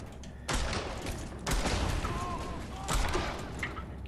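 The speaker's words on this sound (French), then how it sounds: "J'ai trouvé le fusil à pompe très très efficace" Pump-action shotgun blasts from Homefront: The Revolution, three loud, sharp reports spaced about a second apart, each with a short decaying tail over game ambience.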